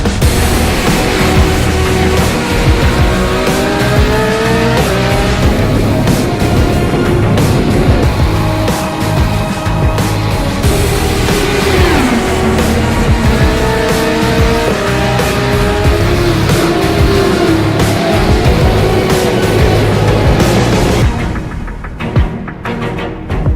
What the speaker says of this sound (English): This is the original esport racing game. This is iRacing.